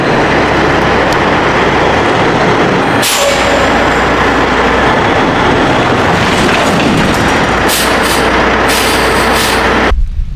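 Semi tractor truck backing under a trailer on a farm by a corn field, a steady loud diesel engine rumble throughout with hissing air bursts near the end and a sharp cutoff.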